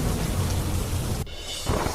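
Heavy downpour with strong wind in the Shantipath area of Delhi, a dense, loud roar of rain and deep thunder rumble that drops out abruptly, then resumes.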